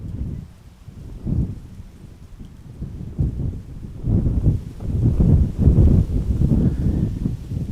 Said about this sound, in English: It is a bit windy, as you guys can hear and see